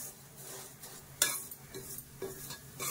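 Vermicelli (semiya) stirring and frying in a pan over a low flame, with a soft continuous sizzle broken by scraping strokes of a spoon against the metal, close and steady, and no talking.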